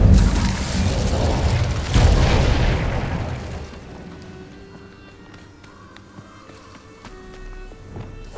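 An Incendio fire spell cast in Hogwarts Legacy, a loud whooshing burst of flame with a second surge, then fading into quieter crackles, footsteps and scattered game effects.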